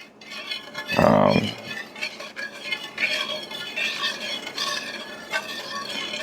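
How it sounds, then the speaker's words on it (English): Whisk working barbecue sauce in a pot: a loud scraping burst near the start, then steady, close clinking and swishing of metal against the pot, with no talk. "Now we just need to whisk it together."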